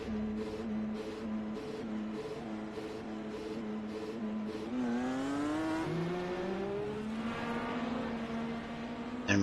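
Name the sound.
race car going by on the track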